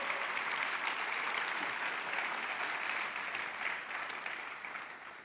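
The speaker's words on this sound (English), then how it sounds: "Please join me in another round of applause in congratulating Ron Johnson for this well-deserved recognition." An audience at an awards ceremony applauds in a full, even burst of clapping that holds steady, then gradually thins and fades toward the end.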